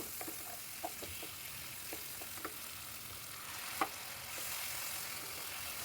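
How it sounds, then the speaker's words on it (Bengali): Fried fish head and potatoes sauté in spice masala in a pan, giving a faint, steady sizzle broken by light taps and scrapes of a spoon, with no one talking. "মাছের মাথার গায়ে খুব ভালোভাবে মশলাটা মাখিয়ে নেব এবং একটু কষিয়েও নেব"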